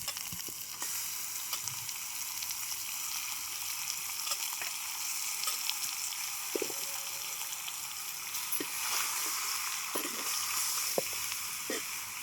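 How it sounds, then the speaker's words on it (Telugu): Chicken fries in a pan for a village-style curry, giving a constant, even sizzle with occasional soft clicks and scrapes as the pieces are stirred. "చికెన్ వేసి మంచిగా కలుపుకోవాలి"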